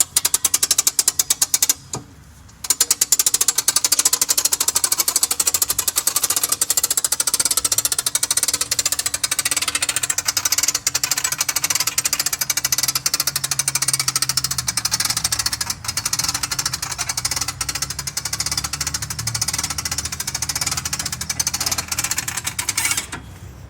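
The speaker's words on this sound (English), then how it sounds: "we're going to start cranking it" A hand crank raises a Coachmen Clipper 1265ST pop-up camper, giving a loud continuous rapid ratcheting clatter that runs almost the whole time with one brief pause near the start.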